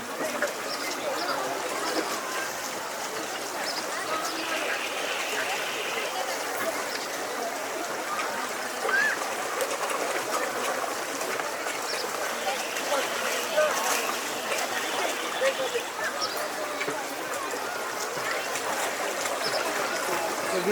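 Water moving and churning at an outdoor sampling site, a continuous rushing wash with steady noise, while people talk faintly in the background.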